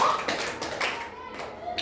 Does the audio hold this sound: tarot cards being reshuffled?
no